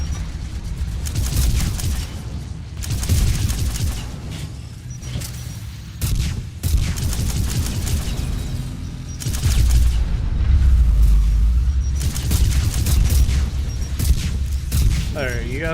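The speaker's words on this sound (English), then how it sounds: "you guys need to quit with the explosions." Explosions and gunfire from the Mass Effect 3 video game, with repeated heavy booms and bursts of shots in uneven clusters, loud and close, mixed with game sounds and occasional voices.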